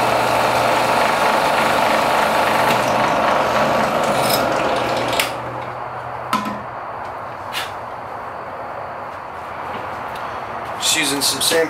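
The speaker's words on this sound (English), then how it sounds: "Some sandpaper to roughen up the back of this scale to give the epoxy a little bit more surface area" Sandpaper scrubs the back of a knife handle scale for an Elmax Enzo Trapper. The dry, steady rasp is close and continuous, easing slightly partway through, with a few small knocks.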